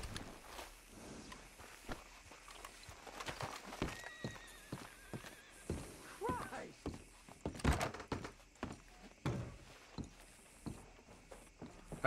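A horse in Red Dead Redemption 2 gives a sharp whinny amid hoof clops and thuds in the game world, while a voice talks intermittently over the faint scene.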